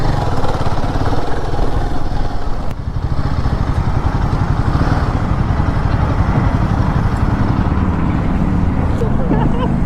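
Three motorcycles, a 650 and two 452s, idle loudly and steadily at a biker group meetup, their close rumbling engines running throughout while people talk over them.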